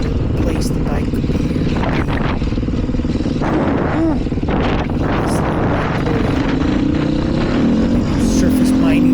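A 2020 Beta 500 RR-S dirt bike rides through the desert, its engine droning loud and steady under heavy wind buffeting on the microphone, with pitch shifting as the throttle varies.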